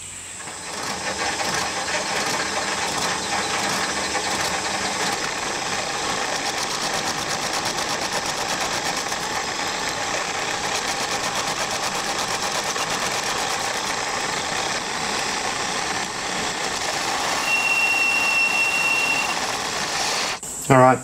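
A clock part being machined around its circumference to a clean edge, heard as a steady, loud mechanical whirring drone that runs almost unbroken, with a brief clatter at the very end.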